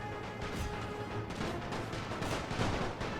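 Soldiers firing in The Great War strategy game, a dense, continuous mix of rifle and artillery shots with crashing impacts.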